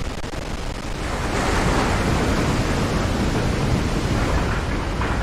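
A waterfall in the video game Resident Evil 4 roars as a loud, steady broadband rush that fills the whole clip without a break, with no voices over it.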